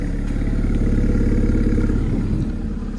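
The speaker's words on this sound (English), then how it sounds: "that is an APR 3-inch turbo back exhaust with a Sport Cat" Cold-started VW Golf GTI Mk5 running through an APR 3-inch turbo-back exhaust with sport cat, a loud, close, deep burbling idle that holds steady before dipping slightly near the end, no voices.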